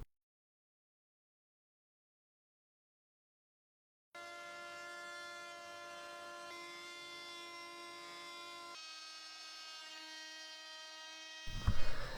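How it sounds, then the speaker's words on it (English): A CNC router carving a liquid plywood sculpture gives a steady, loud, tonal machine whine with strong harmonic bands, starting abruptly after several seconds of silence, shifting pitch partway through and ending in a brief clatter. "the router is incredibly loud and incredibly dusty"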